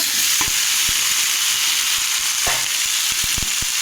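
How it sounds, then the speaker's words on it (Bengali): Onions frying in a pan until lightly reddish give a steady, loud sizzle throughout, with sharp clicks and scrapes of stirring scattered through it. No one speaks. "পেঁয়াজটা লাল লাল করে ভেজে নেব 2 মিনিটের মতো"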